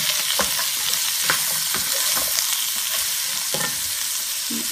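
Orange beef with crisp vegetables and onions stir frying over the highest stove heat, a loud continuous sizzle with scraping and tossing strokes from the spatula breaking through at intervals.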